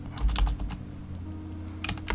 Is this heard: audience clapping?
no